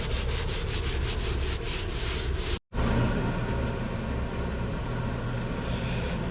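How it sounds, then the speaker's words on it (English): A sponge wipes sanded Polyblend Plus grout off tile joints in steady rhythmic strokes. The rubbing stays loud and close, with one brief break in the middle. "rinse your sponge, wipe it down, rinse your sponge, wipe it down"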